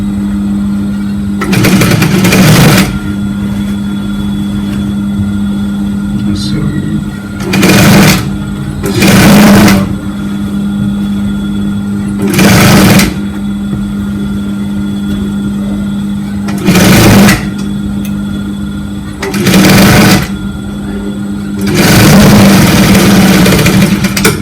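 A sewing machine stitches a sleeve onto an armhole in several short bursts separated by brief pauses, each run of stitching loud and close over a steady low hum.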